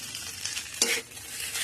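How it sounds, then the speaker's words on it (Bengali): Fried rice with soy mince and chopped ginger stirred in a hot pan, a continuous close sizzle with one brief louder scrape of the spatula partway through, no voices. "দিদি রাইস দিচ্ছে, আমি নাড়ছি"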